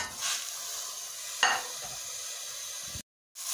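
Minced meat sizzles in olive oil in a pan, a steady close hiss with a brief stirring scrape midway, cutting to silence near the end.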